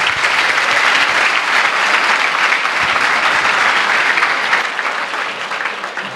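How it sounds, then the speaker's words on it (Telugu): A large student audience at a Sri Chaitanya personality development talk applauds loudly and continuously, a dense wash of clapping that stays strong and eases slightly toward the end. "వెరీ గుడ్, గట్టిగా కొట్టండి క్లాప్స్"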